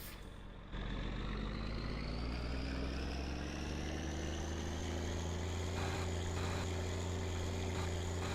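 A car engine in the driving game My Summer Car starts with a low rumble, then settles into a steady drone whose pitch climbs slowly as the car pulls away, loud and continuous with no talk.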